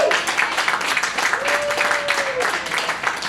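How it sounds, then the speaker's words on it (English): Crowd applause at a small stand-up comedy show, dense clapping at fairly close range throughout, with a brief whistle-like tone gliding through the middle and some voices mixed in. "Clap it up for yourselves"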